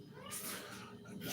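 Cat meowing near feeding time: a couple of drawn-out, close meows, moderately quiet, in a calm indoor setting.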